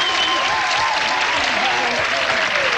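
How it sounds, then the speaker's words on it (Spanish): A game show studio audience applauds loudly and steadily, a dense continuous clapping that fills the room, while a host talks over it. "Y llamamos a Pablito Ruiz con el aplauso fuerte de ustedes."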